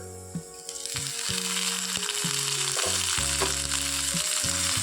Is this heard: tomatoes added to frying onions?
yes